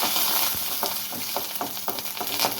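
Crushed garlic, a sprig of curry leaves and two dried red chilies sizzle in hot oil for a tempering, with a steady crackle and a few soft stirring knocks.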